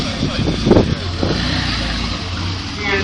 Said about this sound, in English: Now Model T, Albert Stanton with his speedster. 1914, beginning of the First World War.